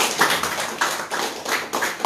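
Applause from an audience at a film festival debate session, heard as a few irregular bursts of clapping rising and fading over a couple of seconds, moderately loud and without talk.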